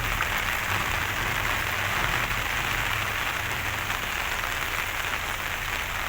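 Heavy typhoon rain pours steadily onto a surface, a dense, constant hiss with no voices, unchanging throughout.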